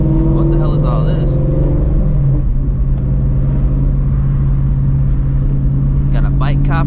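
A car engine hums steadily at close range during a U-turn in a street, a low droning rumble that rises slightly as the car turns, with people talking over it throughout.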